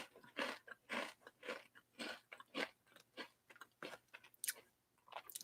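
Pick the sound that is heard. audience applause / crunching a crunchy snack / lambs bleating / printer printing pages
crunching a crunchy snack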